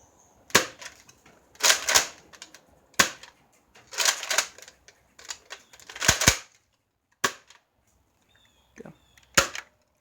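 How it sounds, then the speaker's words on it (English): A Nerf Strongarm foam-dart blaster fires repeatedly, with a sharp, snappy pop-and-click for each shot. The roughly dozen near, loud shots are spaced a second or so apart with short quiet gaps and no talk. "we're going to do a firing test with the, we're going to do 6 darts with the barrel on and 6 darts without the barrel"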